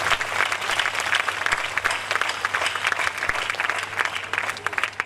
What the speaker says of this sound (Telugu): గట్టిగా చప్పట్లు కొట్టండి మన సిస్టర్.